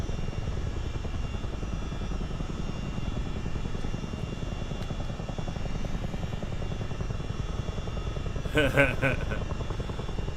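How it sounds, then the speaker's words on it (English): A CH-47D Chinook helicopter in a multiplayer flight simulator game, flying over the Great Lakes near Detroit, gives a steady, loud rotor and engine drone throughout, with a short louder surge near the end while a voice talks over it. "I like this helicopter. This is a great one to fly."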